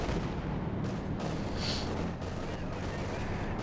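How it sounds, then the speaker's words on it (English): Explosions and gunfire from the World War II strategy game Company of Heroes 2, in a Wehrmacht versus Soviet match, rumbling in a dense continuous barrage with a sharper burst near the middle. "Explosions going all over the place here."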